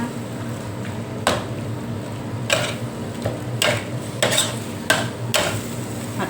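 Grilled stingray is stir-fried with curry paste in a pan, heard as a series of irregular scraping strokes from a utensil over a low, continuous sizzle.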